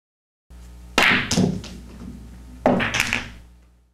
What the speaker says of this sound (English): we aim to split the 2 and the 4, hitting the 4 ball slightly first